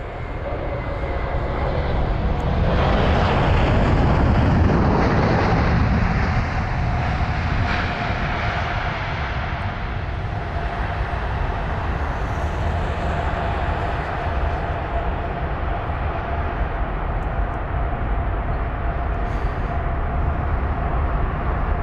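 Airbus A380 from Doha, seven years old, landing at London Heathrow: a loud, steady jet roar with a rumbling low end that swells over the first few seconds, then holds as a sustained close-up engine drone.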